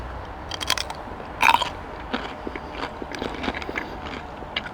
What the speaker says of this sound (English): it would be a shame not to say I've eaten my first cucumber